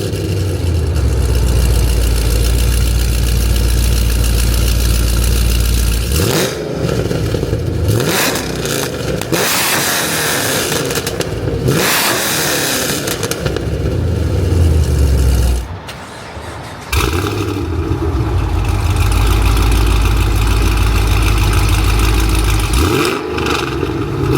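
Chevrolet Camaro ZL1 and SS V8 engines, fifth generation, rumble loudly at idle in turn, a deep steady burble broken by a few brief blips, shifts in tone and short dips as one car stops and the other runs.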